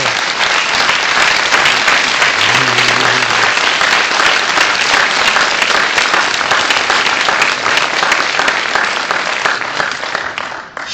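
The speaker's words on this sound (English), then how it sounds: "Give yourselves a round of applause." Loud, sustained applause from a large audience at a motivational speaking event in Columbus, Ohio, a dense, even roar of clapping over roughly eleven seconds that tapers slightly at the end, with a brief faint voice early on.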